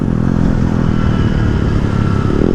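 A 2018 Alta Redshift SM electric supermoto motorcycle on the move, heard as a loud, continuous rumble with rushing wind noise and no talking.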